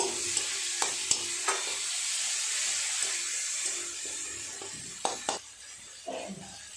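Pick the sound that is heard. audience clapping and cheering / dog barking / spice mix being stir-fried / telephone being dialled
spice mix being stir-fried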